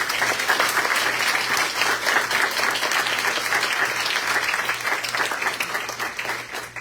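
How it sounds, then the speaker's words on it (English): A board of education meeting audience applauds an award recipient, steady dense clapping filling the room at an even level from start to finish with no talk over it. "Let's give her a round of applause."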